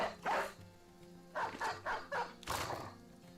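Dog barks in the tactical game Battle Brothers, a sharp yelp followed by a quick run of three or four barks and one last loud bark, close and clear with a low background hum.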